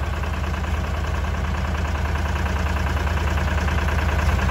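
A tractor engine idles steadily in extreme cold, a close, even low rumble with a fast repetitive chug and no change in pitch throughout.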